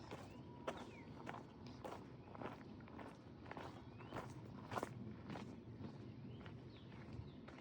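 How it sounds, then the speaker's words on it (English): Footsteps of a walker on a quiet nature trail in Washington, DC: steady, evenly spaced crunching steps, close and moderately loud over a soft outdoor background with faint birds. "I am sure you can hear my footsteps in this video"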